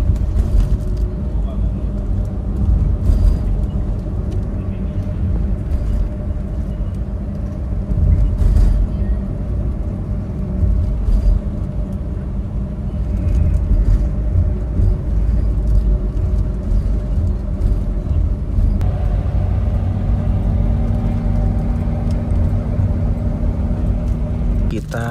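A sleeper bus pulls away from Pondok Pinang, Jakarta, with a continuous low engine rumble and road noise inside the cabin, steady and loud throughout, with a slight shift in engine tone near the end and talk faintly underneath.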